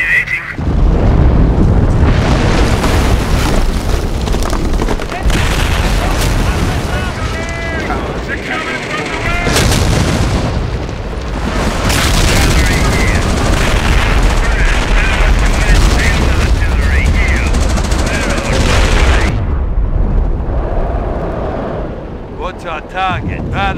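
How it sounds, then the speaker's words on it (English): Artillery barrage and gunfire from Company of Heroes, with dense, loud, continuous booming explosions and rattling shots filling the whole stretch, a brief lull near the end, under intermittent game voice callouts. "Barrage, on the way!"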